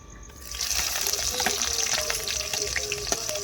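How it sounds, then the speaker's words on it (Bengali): Chopped onion hits hot oil already holding cumin seeds and dried chilli for a Bengali chicken curry, giving a steady loud sizzle and crackle with occasional stirring clinks, close and without voices. "এবার কুচনো পেঁয়াজটা দিয়ে দেব।"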